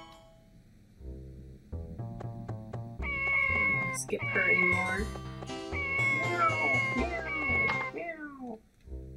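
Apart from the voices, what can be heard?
cats meowing in the video game Harvest Moon 64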